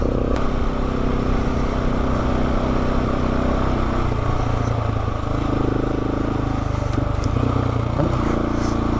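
An adventure motorcycle climbs the Alpine Loop trail in Colorado, its engine loud and close, pulling steadily with rising and falling revs and wind buffeting throughout.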